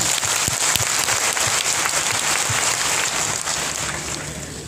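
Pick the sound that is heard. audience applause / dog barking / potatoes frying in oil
audience applause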